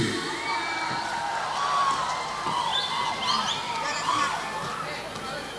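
An audience at a live Indonesian stage show welcomes a performer with a steady wash of cheering, whoops and shouting. The crowd noise holds dense and lively throughout, with voices rising and falling.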